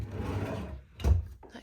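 Built-in lightweight drawers in a bedroom are slid open and shut, a soft wooden rub followed by one clearer clunk near the end, close and fairly quiet.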